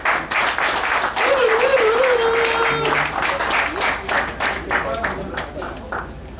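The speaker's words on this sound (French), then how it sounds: "Sur l'applaudissement." An audience applauds at a ceremony handing out vehicle and motorcycle gifts to staff on an anniversary, sustained clapping that swells, then thins and fades, with a voice speaking briefly partway through.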